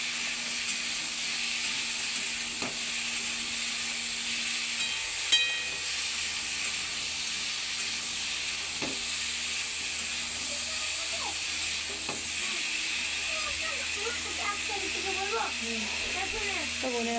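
Kashmiri color masala sizzles and steams in a pan after water is poured in, giving a steady, even hiss for the whole stretch, with a faint voice toward the end.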